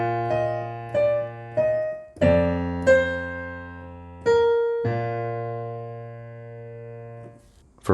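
Piano playing part 3 of the chorus of a song as a simple easy arrangement, a few sustained chords and single notes struck one after another, ringing out and fading at the end, no talking.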